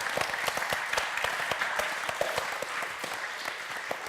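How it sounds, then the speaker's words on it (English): Audience applause for two presenters, a full, continuous round of close clapping from a crowd that stays steady to the end. "give a round of applause for Joe and Cam"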